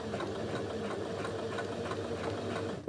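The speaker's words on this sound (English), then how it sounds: "I'm going to start sewing at one end of the opening on the bottom of the pocket, so do a forwards and back stitch here" A sewing machine stitches cloth for an apron patch pocket, humming steadily and evenly at close range for the whole stretch, with a small knock right at the end.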